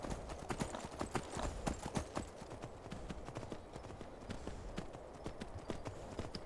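A horse in the video game Skyrim clip-clops along at a steady rhythm of close hoofbeats for several seconds, with no talk over it.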